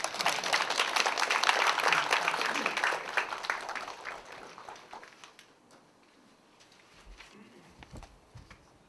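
Applause from the audience at an education council's anniversary general meeting and training session, fairly loud at first, then thinning into scattered claps and fading to quiet.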